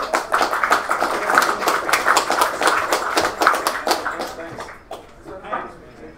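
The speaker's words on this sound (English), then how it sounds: "Applause, please." An audience at a game developers' meetup applauds with a dense patter of many hands clapping that fades toward the end. Murmured voices run underneath.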